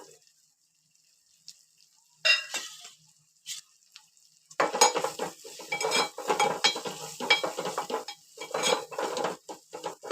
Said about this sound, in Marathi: मसाला चांगला भाजला परत परतून घ्यायचा चांगला तेलामध्ये